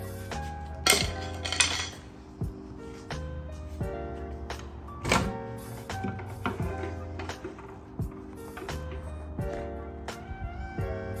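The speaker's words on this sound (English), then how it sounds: "let's take off the oil pan, see how it looks under there" Hand tools work on a car engine during an LS swap into a Mazda RX-7 FD, with the oil pan being taken off: a string of close metallic clinks, taps and scrapes, sharp and irregular, with faint tonal ringing and no talk.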